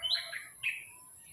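Two baby birds in a nest give high, thin chirps: a pair of quick tweets near the start and another sharp call just past halfway, fairly close and clear over a quiet background.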